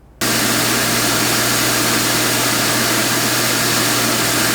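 Ecovacs Deebot T20 Omni docking station self-emptying: a sudden, loud, steady roar of suction airflow with a low droning motor hum, starting abruptly and running continuously at close range without voices.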